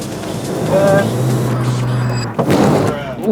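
A powerful car on a race track, its engine droning steadily with a low hum and rising revs, close and loud beneath an instructor's voice talking to a nervous first-time driver.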